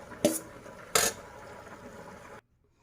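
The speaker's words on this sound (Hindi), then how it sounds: "उसके बाद जो बाकी चावल हैं अब वो हम इसके ऊपर डालेंगे" Cooked rice spooned on top of layered Sindhi chicken biryani in a pot gives two clear metallic clinks of a utensil against the pot, with soft rustling between, then stops abruptly.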